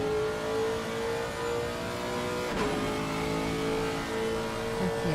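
Race car engine on a straight at the Nurburgring in a sim racing game, a loud, sustained high-pitched drone holding steady with a brief dip near the middle as it keeps pulling.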